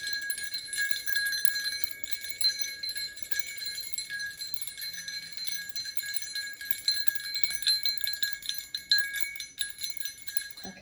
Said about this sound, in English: I'm just going to use my bells also just to clear a little bit real fast.